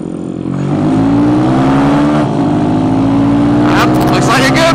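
A Kawasaki Z125 Pro and a Honda Grom, small-displacement streetbikes, ride together with a loud, steady engine drone that rises in pitch as they accelerate and hold speed up close.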